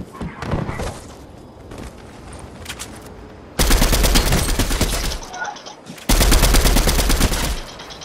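Turret gunfire in Fortnite comes as two long, loud bursts of rapid automatic shots, each running a couple of seconds, with quieter game sounds between them.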